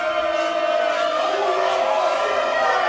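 A loud, dense wrestling crowd at a Wrestling Open event at White Eagle in Worcester roars and cheers continuously, a sustained wall of voices that stays steady throughout.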